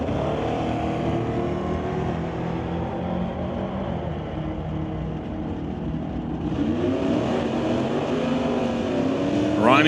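Drag race cars run down a quarter-mile strip at the West Coast Outlaw Shootout, a steady distant engine roar that swells and rises in pitch toward the end, with faint commentary underneath.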